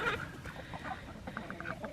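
Backyard chickens cluck softly in short, scattered bursts as they crowd around their feed during farm chores, quiet and fairly close with no talking.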